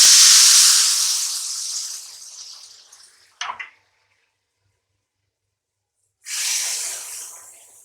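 Hot sugar syrup is poured into cooked semolina for suji halwa and gives off a loud steaming hiss that slowly fades. A brief clink and a pause of silence follow, then a second burst of hissing sizzle.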